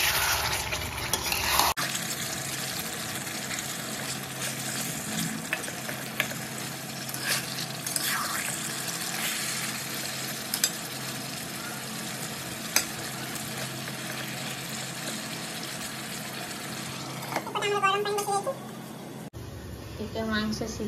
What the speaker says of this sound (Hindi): आलू को मसला सहित पूरा कषीदबा